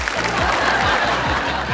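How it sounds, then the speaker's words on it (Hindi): A studio audience on a televised quiz show claps steadily in a dense, even burst of applause, with faint murmurs and laughter mixed in. "जनता ताली बजाए चले जा रही है।"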